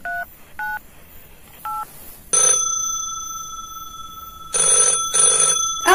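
Telephone keypad tones are dialled for an outgoing call, three short beep pairs, and then the line rings with a long electronic trill, a pause and two more ring bursts, loud and close.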